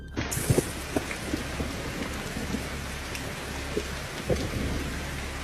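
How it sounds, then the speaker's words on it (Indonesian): Heavy rain pours steadily at night while thunder rumbles low and close, with several deep thumps breaking through the constant downpour, no voices present. "Apalagi malam itu hujan lebat."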